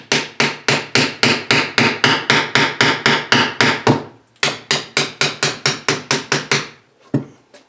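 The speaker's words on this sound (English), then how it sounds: "what I'll do is I'll lightly tap it with a hammer." A hammer taps metal on a Murray MST-205 transaxle during removal, a quick, even run of sharp nearby strikes, a brief pause, then another steady burst and one last lone hit.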